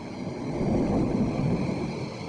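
Thunder rumbles low and broad before rain in a 1983 Romanian film, a sustained rolling swell with no voices over it.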